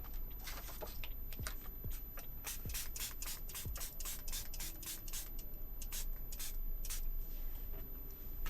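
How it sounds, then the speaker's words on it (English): A rapid series of short, hissy water sprays from an eyeglass sprayer and scratchy rubbing sounds, close and fairly quiet, repeating irregularly over several seconds. "I'm just using an eyeglass sprayer"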